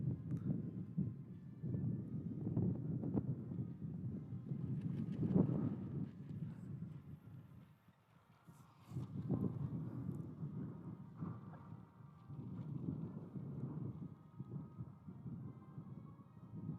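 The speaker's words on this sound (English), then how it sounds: "we've got severe wind here" Strong wind buffets a microphone outdoors at a high school baseball game, Fort Gibson at Noble, with heavy low rumbling gusts that surge and drop, briefly easing midway before returning, with no clear talk.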